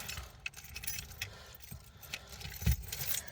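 A large bunch of keys jingles and clinks in bursts close by, with a louder jangle near the end, over a faint low rumble.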